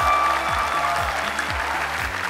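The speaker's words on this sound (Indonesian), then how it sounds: "kita berikan tepuk tangan yang lebih meriah." Sustained audience applause fills a talent show grand final venue, loud and dense throughout with steady crowd clapping under music tones.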